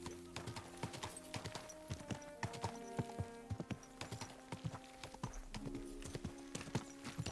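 Steady clip-clop of horse hooves on a path in Kingdom Come: Deliverance II, a medieval role-playing game, with regular close hoofbeats over soft background music and no talk.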